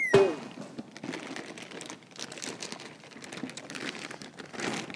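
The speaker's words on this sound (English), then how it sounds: "Take the amp out of its bag here." Plastic bag crinkling steadily as an 80 or 160 watt amplifier is pulled out of it, a close, busy rustle throughout with a sharp thunk at the start.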